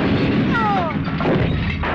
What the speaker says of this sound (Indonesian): tabung gas kecil yang dipanaskan tadi meledak